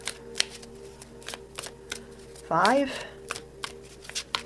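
Tarot cards being shuffled by hand in quick papery riffles and taps, with a short spoken word partway through.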